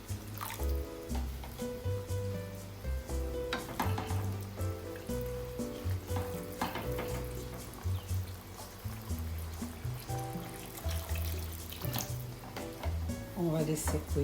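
Spanish rice simmering in a pan after plenty of broth goes in, with a soft bubbling, dripping sizzle running steadily under a voice talking in French.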